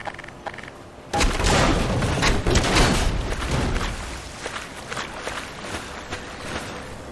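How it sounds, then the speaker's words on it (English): Rough bursts of explosions in the video game Black Mesa, a loud sudden blast followed by several seconds of dense rumbling and crackling debris, with scattered sharp hits fading slightly toward the end. "Rough, gratuitous explosions."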